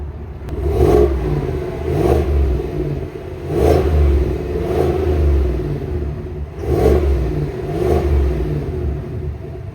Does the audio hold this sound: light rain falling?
no